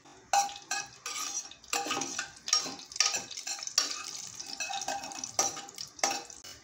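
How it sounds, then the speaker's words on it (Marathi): Mustard seeds crackle and splutter in hot oil with cumin for a Marathi phodni tempering for horse gram curry, a dense run of close, irregular pops and sizzles with faint utensil clinks. "मोहरी तडतडली ना की आता आपल्याला कांदा ॲड करायचा आहे"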